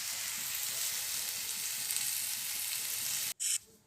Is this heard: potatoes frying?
yes